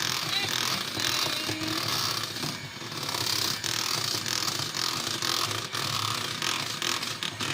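An electric beater whisks an ice cream mixture with a continuous whirring, rattling drone, loud and close, with a brief dip in intensity partway through before running steadily on.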